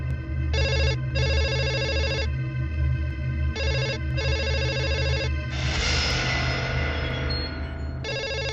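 A telephone rings in a film scene, sounding in repeated bursts of electronic trilling with short pauses between, loud and clear over a low background hum.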